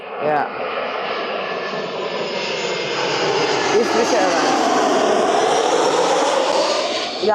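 A small aircraft's engine roars loud and close, a broad, continuous drone that swells slightly and holds steady throughout, with faint voices mixed in.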